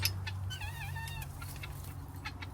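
Domestic guinea fowl calling from a coop, a run of rapid, squeaky chattering notes near the start amid a steady low farmyard rumble and other faint bird sounds.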